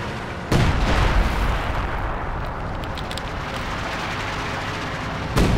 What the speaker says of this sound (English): So much artillery, so many explosions.